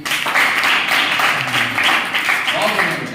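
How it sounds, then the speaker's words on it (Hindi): Steady applause from a group of children clapping together in a classroom, a dense continuous patter lasting the whole moment, with some voices mixed in. "ताली बजाइए।"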